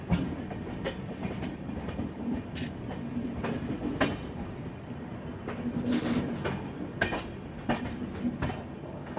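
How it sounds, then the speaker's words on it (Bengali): The Puri Shatabdi Express runs along the tracks near Khurda Road Junction, a continuous rumble with recurring rail clicks and clatters, heard from on board. "ট্রেন কিন্তু নির্দিষ্ট সময় পুরী থেকে ছেড়ে এখন ক্রস করবে খুরদা রোড জংশন।"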